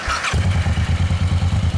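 A 2008 Suzuki Boulevard M109R cruiser fires up and settles into a loud, close exhaust burble of rapid, evenly pulsing low thumps, with a brief higher whir just before the engine catches.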